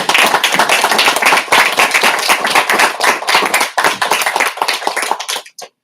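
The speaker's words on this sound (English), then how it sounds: "Maybe once more, just one more round of applause for both of them for sharing this." Applause from a small audience after a poetry reading, a close burst of brisk hand clapping with individual claps clearly audible, thinning out and ending abruptly.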